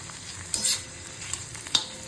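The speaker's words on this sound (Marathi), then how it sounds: "थोडासा अद्रक आणि लसूण, आलं आणि लसूण थोडंसं, हे पण आपल्याला टाकायचं आहे फ्राय करायला" Ginger and garlic frying in a pan for a mixed sprout curry, a quiet sizzle with a few soft scrapes of stirring, close by and without voices.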